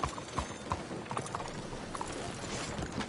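Horse galloping in the video game Red Dead Redemption 2, a fast steady clip-clop of hooves with faint creaks of tack, close and moderately loud, no talking.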